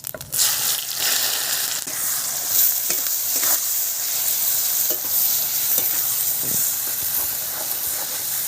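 Onion with cumin, dried red chilli and bay leaf frying in hot oil while being stirred, a continuous loud sizzle and hiss with scraping stir strokes throughout.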